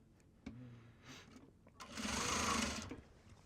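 Sewing machine stitching Japanese fabric project bags. Short bursts of motor whir and clicks build into a steady, louder run of stitching that then stops, with quiet room tone between the bursts.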